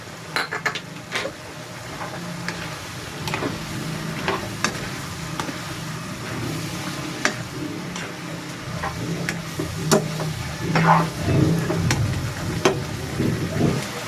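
String beans, eggplant and okra tumble into a cooking pot of banana-heart laksa, with scattered clinks and stirring scrapes over a low, steady simmer and soft sizzle.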